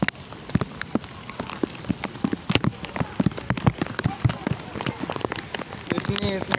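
Steady heavy rain in Karachi patters and splashes with sharp drips hitting a surface, a dense, close wash of falling water with a faint voice near the end.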